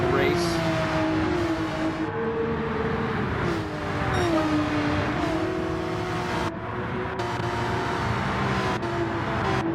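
GT3 race cars run through a turn at Trial Mountain in Gran Turismo 7, several engines whining and shifting pitch together, loud and continuous, with a commentator talking over them.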